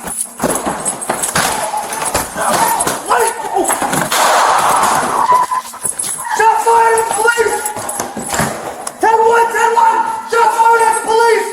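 Shots ring out during a tense police confrontation, sharp bursts among loud shouting officers and radio chatter, with a siren wailing in the latter half and people yelling throughout.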